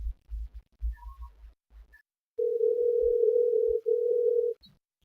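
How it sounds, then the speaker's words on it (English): A telephone ringback tone sounds on an outgoing call into a radio talk show: one steady, sustained electronic tone with a brief gap, heard alone after some low thumping noises. "Still ringing, as you can tell."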